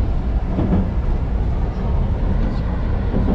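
A metro train rumbles loudly through Buyuk Ipakyoli underground station, a steady low roar that fills the space without letup.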